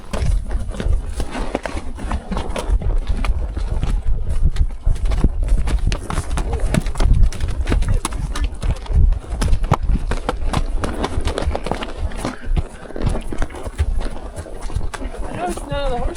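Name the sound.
horse hooves clip-clopping on a rocky trail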